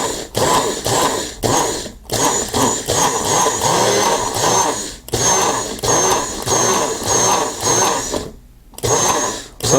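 A Magic Bullet blender grinds sugar into powdered sugar with loud, whirring motor bursts, each pulse running a couple of seconds before brief stops and restarts.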